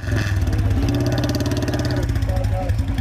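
A motorcycle fitted with a modified silencer throbs with a loud, rough exhaust rumble, the engine note steady and close throughout, with a voice talking over it.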